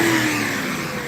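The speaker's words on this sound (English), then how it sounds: "He working on the car." A car engine revs steadily and loudly nearby while someone works on the car in a residential yard, a continuous mid-pitched drone with no speech over it.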